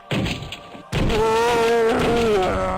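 Gunfire effects from a first-person zombie shooter, an Xbox Live Indie Game, with a short thump at the start, a brief gap, then a loud sustained blast whose ringing, wavering tones run under a groaning tail to the end.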